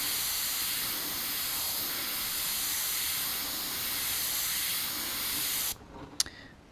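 An airbrush sprays paint onto fishing lures with a steady, close hiss that runs unbroken for several seconds, then cuts off abruptly, followed by a faint click.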